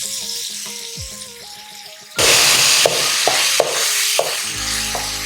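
Tomato masala for prawn karahi sizzles in a pan and turns loud and hissing partway through, broken by a few soft knocks of stirring, with a steady tonal hum behind it before the sizzle takes over.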